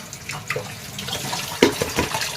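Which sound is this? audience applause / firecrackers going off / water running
water running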